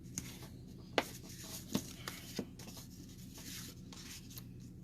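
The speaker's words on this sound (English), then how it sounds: "Then take your bone folder and burnish it." A bone folder rubs firmly over folded paper in close, steady scraping strokes, broken by a few sharp ticks where the tool catches the crease.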